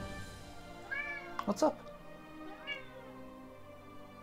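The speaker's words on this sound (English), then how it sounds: "Silly cat." A domestic cat meows close by, two or three drawn-out calls, with someone briefly speaking between them over quiet background noise.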